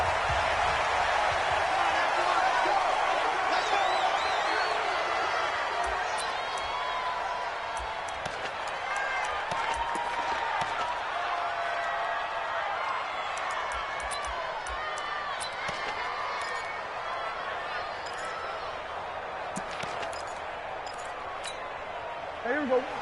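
A raucous stadium crowd roars in a PS4 football video game, a broad, continuous wash of cheering that runs steadily beneath game commentary throughout.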